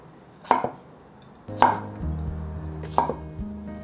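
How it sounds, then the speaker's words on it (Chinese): Baby corn sliced diagonally with a knife on a cutting board, three distinct sharp chops spaced about a second apart, close and crisp with no voices. "准备5条玉米笋，把玉米笋斜切，跟甜豆差不多一样的长度"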